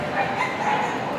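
A small dog at a dog show gives short, high yips and whimpers close by, brief and light, heard while someone talks in Arabic.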